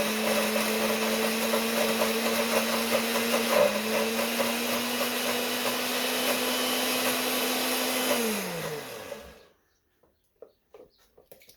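A food processor whirs steadily while blending homemade beer pub cheese, its motor drone holding loud and close with a brief pitch dip partway, then winding down to a stop near the end, followed by near silence with faint clicks.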